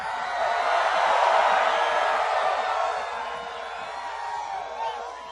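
A large rally crowd in Phoenix, Arizona roars and cheers steadily for Donald Trump, a dense sustained wash of voices and whoops that eases slightly toward the end, with no speech on top.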